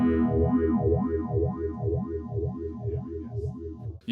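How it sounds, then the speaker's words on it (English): A guitar tone through a Pigtronix EP2 envelope phaser with the resonance turned up, sweeping in a steady, throbbing wah-like oscillation about twice per second, loud and continuous. "So if I turn the resonance up"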